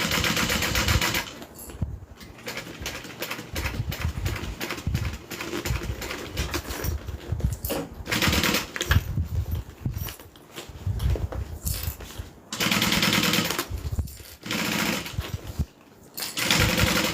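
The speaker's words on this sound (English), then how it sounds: "Sewing down this key leash." A sewing machine stitches down a key leash in fast, rattling bursts, stopping and restarting several times, loud and close with brief pauses between runs.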